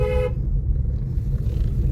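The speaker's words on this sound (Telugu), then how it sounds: "ఇక్కడ నుంచి హార్న్ కొట్టుకుంటా వెళ్ళిపోవాలి మనం" A single short vehicle horn blast on a rocky mountain road in Himachal near a Shiva temple, loud and close, then a steady engine rumble with no voices.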